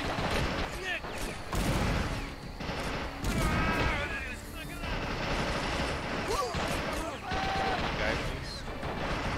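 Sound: gunfire and explosions in video game Men of War Assault Squad 2

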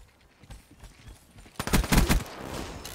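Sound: gunfire in a video game

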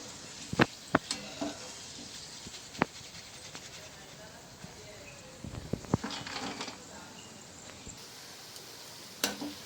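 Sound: coconut frying in oil

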